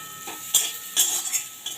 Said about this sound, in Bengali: এবার চিকেনগুলো দিয়ে আমি একটু জাস্ট নাড়াচাড়া করে নেবো